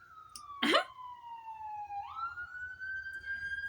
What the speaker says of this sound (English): there's some sirens to go with it